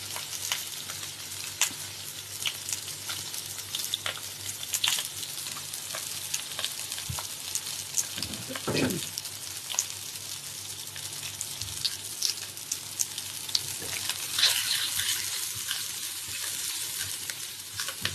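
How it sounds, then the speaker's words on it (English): Char Kueh Teow noodles sizzle and fry in a hot wok, a continuous loud crackle with scraping stirs throughout and no talking. "I'm cooking Char Kueh Teow."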